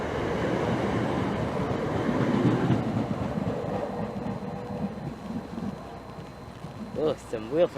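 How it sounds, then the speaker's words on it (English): A class 465 unit on the Victoria to Gillingham service pulls into Swanley station with a steady, loud low rumble of wheels and running gear, a voice talking over it, and sharp rhythmic squeals near the end. "And now arriving is the Victoria to Gillingham train."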